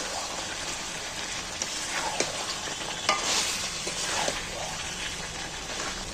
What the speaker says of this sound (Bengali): এইবার আমরা ভেজে রাখা আলুগুলো তুলে দিচ্ছি এর মধ্যে